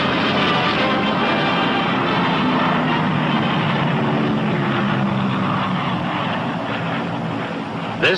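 Engines and propellers of a P-61 Black Widow night fighter roar loud and close, a steady, dense drone that barely wavers from start to finish.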